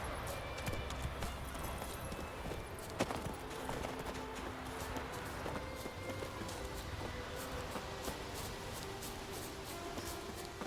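Roach, Geralt's horse in The Witcher 3, gallops steadily with a continuous rapid clip-clop of hooves over ambient game sound. A brief whinny may be mixed in, and there is no speech.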